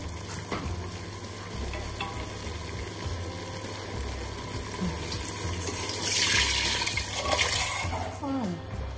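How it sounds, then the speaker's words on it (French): Water is poured into a pot of harira soup holding browned meat, a steady splashing pour under a low cooking hiss, with a brief clatter near the end. "Maintenant, on va ajouter l'eau."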